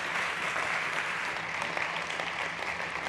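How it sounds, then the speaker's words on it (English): An audience at a startup competition on mobility and smart cities applauds steadily throughout, a continuous wash of clapping at moderate distance with no talk. "Big applause."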